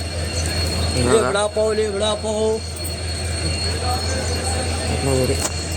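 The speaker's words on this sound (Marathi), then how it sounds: "आपली जी ट्रेन आहे ती आता रत्नागिरीतून निघाली" A train pulling out of Ratnagiri station, with a steady rumble of rail cars and a faint high squeal, while people talk nearby over the running noise.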